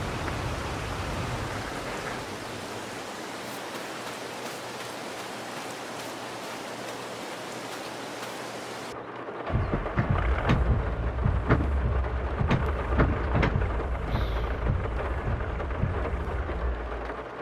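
Video game rain in Farming Simulator 22: steady rain hisses for several seconds, then heavier rain with a low rolling rumble of thunder and scattered drops close by.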